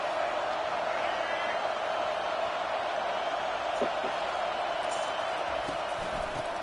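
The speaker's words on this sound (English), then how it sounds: "This crowd bringing the energy and noise early." A college football stadium crowd at Alabama versus Clemson roars as a steady, broad wash of noise that holds at an even level throughout, with a few faint louder swells rising above it.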